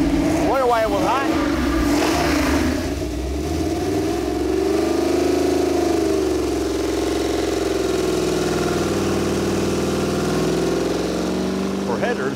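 A Chevrolet 409 engine built from the block up, fitted with ceramic-coated tri-wire headers, runs steadily on a dyno with a deep continuous rumble and rising and falling revs, under a speaking voice at the start.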